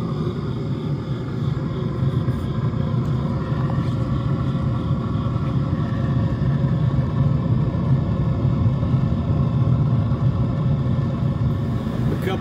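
A Rhino kiln burner firing toward cone 14, its burner cup patched with homemade refractory, gives a loud, steady, broadband roar and rumble that holds without pause, with no voices.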